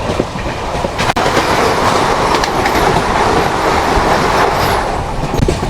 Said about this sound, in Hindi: सामने से ये आ रही है धारवाड़ से बेंगलोर जाने वाली वंदे भारत एक्सप्रेस।